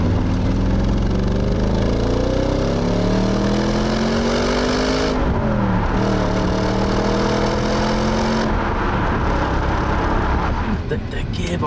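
A 2006 Audi RS4 B7 V8 engine draws closer, a loud continuous drone that climbs and falls in pitch through several revs and gear changes, with brief dips between pulls.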